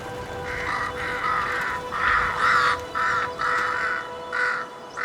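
Crows caw repeatedly in a steady series of harsh calls, fairly close, over a low constant background hum.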